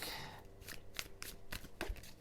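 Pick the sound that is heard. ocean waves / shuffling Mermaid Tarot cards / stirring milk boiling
shuffling Mermaid Tarot cards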